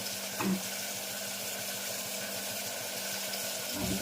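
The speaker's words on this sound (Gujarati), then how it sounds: "સરસ મજાનો વઘાર થઈ ગયો છે" Cumin and turmeric sizzle steadily in hot oil as a tempering for a cluster bean (guvar) curry, a continuous close frying hiss with faint stirring and no voices.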